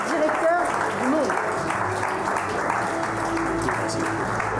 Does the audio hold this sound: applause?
yes